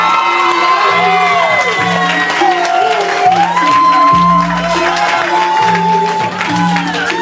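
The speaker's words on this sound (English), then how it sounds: "Y'all wasted y'all time clapping." Live audience at a spoken-word poetry show applauding and cheering for a poet, a loud sustained wash of clapping with whoops and shouts over music throughout.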